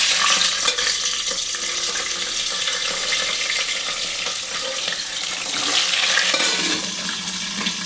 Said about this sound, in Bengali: আমি একটু শিমটা দিয়ে আমি এটা আগে ভেজে নেব।